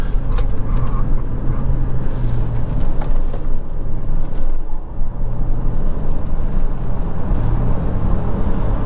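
Steady low engine and road rumble from an older Chevrolet S10 pickup driven briskly on a curvy road near town, continuous and close with wind noise over it and no talking.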